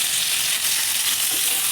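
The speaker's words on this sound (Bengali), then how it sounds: "রাখা মাছের পিসগুলো একটা একটা করে দিয়ে ভেজে নেব।" Pieces of fish fry in hot oil, a dense, loud, steady sizzle with a bright hiss and no pauses, heard up close.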